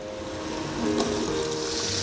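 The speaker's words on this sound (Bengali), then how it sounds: "এবার আমি ওই তেলের মধ্যেই আলুগুলো দিয়ে দেবো।" Potato pieces frying in the same hot oil just used for katla fish heads: a dense, steady sizzle and crackle that swells a little louder partway through and holds close and even.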